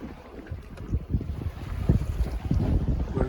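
A sailboat runs downwind, with steady wind buffeting the microphone and low rushing water and wave noise along the hull throughout.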